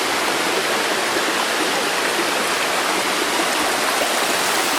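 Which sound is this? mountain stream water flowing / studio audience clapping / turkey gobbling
mountain stream water flowing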